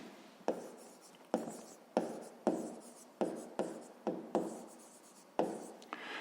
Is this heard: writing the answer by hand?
yes